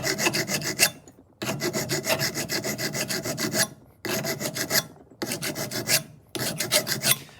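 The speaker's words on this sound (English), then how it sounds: "I'm simply just going to take a file and I'm going to file down the top of that" A hand file rasps steadily across the top of a metal piece clamped in a vise, in long back-and-forth strokes with short pauses between, loud, close and gritty, with no talk.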